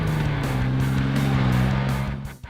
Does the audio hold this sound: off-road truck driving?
yes